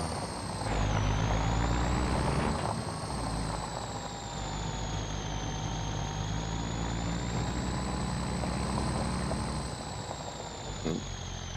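An old dually pickup truck hauling a stock trailer on a farm rumbles steadily with its engine droning, and an air brake hisses briefly near the start, loud and close throughout.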